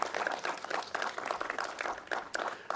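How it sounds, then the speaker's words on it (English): A room of attendees at a college grant announcement for a library renovation gives a moderate, continuous round of applause, with dense overlapping claps throughout and no break. "Yes, it deserves a round of applause."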